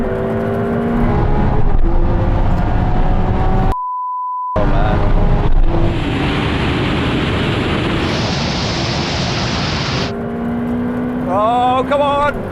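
Ferrari 488 Pista, Lamborghini Aventador SV and an 800hp Porsche 911 Turbo S drag racing, engines roaring loud and close with rising revs through gear changes, broken once by a short electronic bleep.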